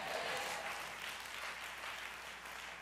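A church congregation on Easter Sunday claps and cheers in a dense, steady wash of applause heard from a distance, fairly faint throughout.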